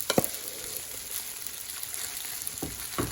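Cooled leftover rice tipped into a hot pan for fried rice, giving a soft sizzle and a couple of short scraping, stirring sounds, fairly quiet and close with no talking.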